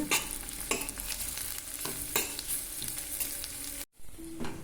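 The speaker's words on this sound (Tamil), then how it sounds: "சேர்த்து நன்றாக வதக்கிக்குங்க." Shallots, curry leaves and ginger garlic paste sautéing in a pan for mutton liver fry, giving a steady hiss broken by repeated scraping stirs, close up with no voices, briefly cut near the end.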